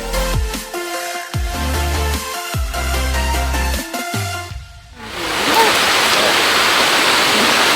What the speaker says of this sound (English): Waterfall is beautiful.